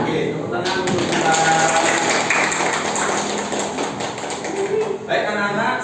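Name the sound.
class clapping hands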